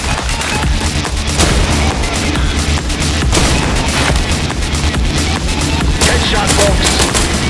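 Video game gunfire in a dense, loud continuous barrage of rapid shots and booms, with a voice talking faintly under the shooting.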